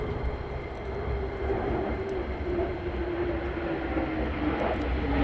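F-35 fighter jets flying over RAF Lakenheath, a steady broad roar of jet engines that stays loud and unbroken throughout, with no talk over it.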